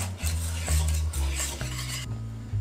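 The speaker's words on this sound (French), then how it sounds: "On n'arrête jamais de mélanger" Cream stirred constantly in a saucepan while it cooks, a continuous close scraping and swishing of the utensil against the pan with a low rumble beneath.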